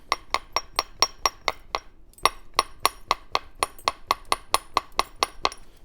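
Steady, rapid tapping on a rainbow obsidian blade being flintknapped to remove a lump, sharp glassy clicks about four per second, close and crisp, with one brief pause partway through.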